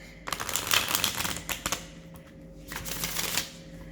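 A deck of tarot cards is shuffled by hand in a quiet room, giving two bursts of crisp riffling and flicking with a short pause between them, close and fairly loud.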